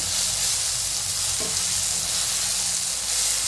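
Garam masala, coriander powder and sambar masala being stirred into hot oil in a pan for hotel-style puri bhaji, a steady loud sizzle with one brief scrape of the spoon midway and no voices.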